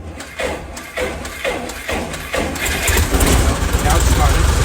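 A small airplane engine cranks with several rhythmic chugging turns, then catches into a loud continuous roar close by. Voices are heard over it.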